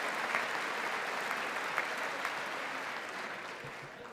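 Applause in Congress during a presidential address, a broad sustained wash of many hands clapping from a large chamber, steady and fairly distant, slowly easing toward the end.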